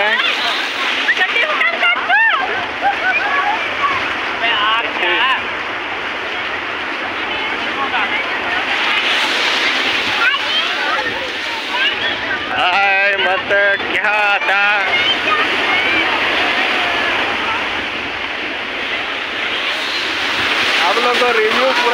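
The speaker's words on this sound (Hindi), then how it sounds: "आप लोग लहरों का एंजॉय कीजिए" Ocean waves at Baga Beach in Goa, a continuous broad wash of surf with strong wind buffeting the microphone, while someone talks over it.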